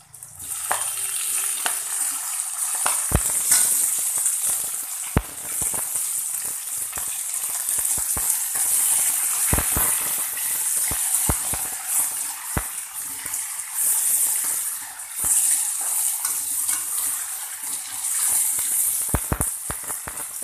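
Tomatoes frying in a pan for a black-eyed pea kuzhambu, a steady close hiss of sizzling oil with scattered sharp clicks and taps of stirring throughout, no talking.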